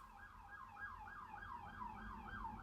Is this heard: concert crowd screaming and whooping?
no